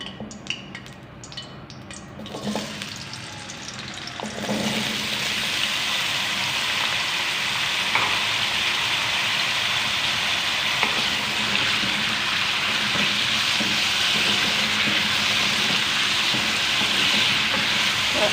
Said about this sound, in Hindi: और आलू को 4 से 5 मिनट के लिए अच्छे से भून लेंगे।